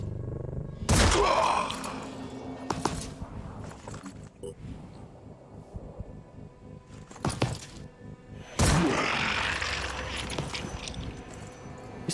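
Laser pistol shots from the tactical video game Phoenix Point, sharp bursts at about 1, 3, 7.5 and 9 seconds, each loud, with a crackling tail fading between them.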